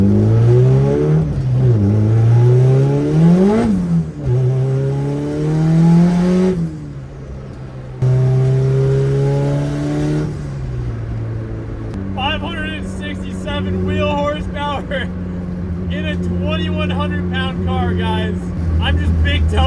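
A fully built LS VTEC Honda Civic engine, tuned for high horsepower, revs at full throttle: repeated rising sweeps and drops, then a sustained loud, strained drone with crackling pops, close and dominant.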